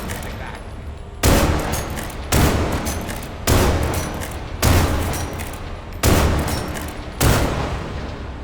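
Six heavy gunshots ring out one at a time at steady intervals, each a loud close blast trailing into a long echoing decay, from a weapon fired in the video game Grave Digger.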